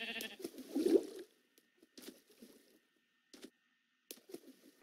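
Sheep in a video game bleating, one loud close bleat followed by a few shorter, quieter bleats spaced apart against silence.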